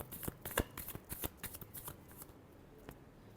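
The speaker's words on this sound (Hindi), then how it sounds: "last shuffle" Tarot cards being shuffled by hand, a quick run of soft papery riffles and flutters that comes close and fairly quiet for a few seconds, then trails off into near silence.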